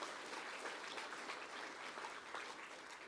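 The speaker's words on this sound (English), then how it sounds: "big round of applause." An awards ceremony audience claps at length, a dense, even wash of many hands with no single claps standing out.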